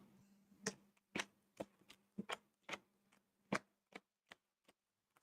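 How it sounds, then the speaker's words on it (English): A series of crisp, irregular snaps and riffles as thin game cards are pile-shuffled and dealt onto piles, close and fairly quiet. "let's shuffle these. We're gonna do a pile seven shuffle."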